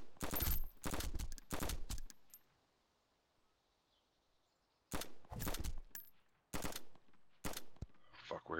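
Video game gunfire in an online shooter around an airfield, loud bursts of rapid automatic shots in several clusters separated by a quiet lull, close and harsh, with no speech during the bursts.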